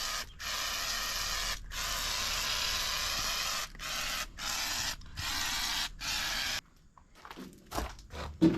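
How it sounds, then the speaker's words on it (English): WD-40 being sprayed inside a Central Boiler Classic Edge 550 wood boiler during maintenance, heard as long, close, steady hissing sprays broken by brief pauses, followed by quieter rubbing and handling sounds. "I'm going to kind of coat everything in here in WD-40 just to clean stuff up"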